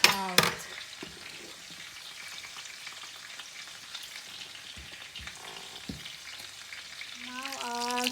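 Salmon frying in olive oil in a pan, a quiet steady crackling sizzle with a few sharp pops and clinks, alone without talk.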